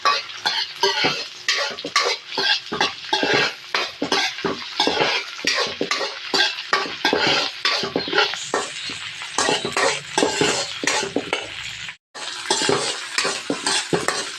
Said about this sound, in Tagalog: Igisa na po natin ang bawang, sibuyas at kamatis.